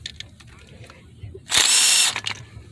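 On a 1993 Chevy Lumina 3.1L, a power tool loosens a cooling fan motor bolt in one loud, close whirring burst of about half a second, with faint clicks and quiet handling noise around it.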